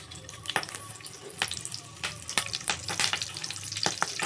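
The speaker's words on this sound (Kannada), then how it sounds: "ಎಣ್ಣೆ ಕಾದಿಂದ ಒಂದೆರಡು ಸಾಸಿವೆ ಒಗಿಬೇಕ್ರಿ. ಕರಿಬೇವು ಹಾಕಬೇಕು." Mustard seeds and curry leaves sizzle in hot oil on a gas stove for Karnataka chitranna. A steady close frying hiss is broken by sharp crackling pops and scraping stirs at irregular intervals, with no talk.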